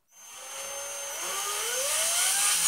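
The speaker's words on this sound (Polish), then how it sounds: "wiertełko założone, no, wiercimy na środku kapsla" A power drill whines as its bit bores into the centre of a metal beer bottle cap, a rising high-pitched tool tone that climbs steadily in pitch and loudness over a few seconds, close up with no talk.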